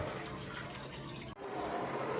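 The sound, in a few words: pouring a little water into the pan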